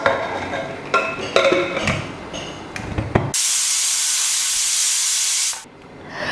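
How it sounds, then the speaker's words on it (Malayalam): Pressure cooker steaming vegetables for kurma: a few metallic clanks and rattles, then a loud, steady hiss of steam rushing out for a couple of seconds before it fades away. "അപ്പോൾ ഒരു വിസിൽ വന്നതിന് ശേഷം ഞാൻ ആവിയെല്ലാം കളഞ്ഞിട്ട് കുക്കർ തുറന്നു നോക്കി."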